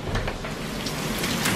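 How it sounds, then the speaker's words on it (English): Rain pours steadily in Kerala, a loud, close, even hiss with scattered drips spattering on surfaces and no voices over it. "Something so calm and magical about rain."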